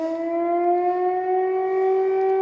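An air raid siren wails steadily at a sustained pitch, loud and continuous, with no voices, heard from a greenhouse in Ukraine.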